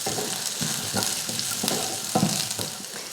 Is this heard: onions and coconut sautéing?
yes